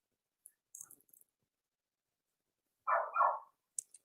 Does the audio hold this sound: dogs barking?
yes